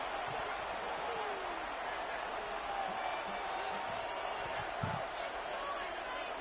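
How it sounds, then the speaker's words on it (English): A stadium crowd in the video game Madden NFL 26 keeps up a steady, broad roar at third down in a Patriots game, with a few dull thumps, while a commentator talks over it. "This crowd into it now as we get to third down."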